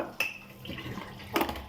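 Dishes rinsed under running water at a home sink, with a sharp clink of a utensil, a soft wet splash, then a louder clatter of plates near the end, close and brief.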